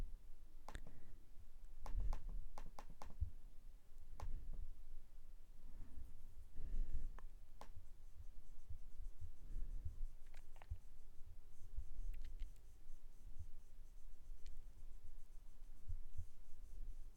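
A pencil eraser rubs on paper during polynomial graphing, with quiet scattered scrubbing strokes and light taps repeating irregularly, close and faint.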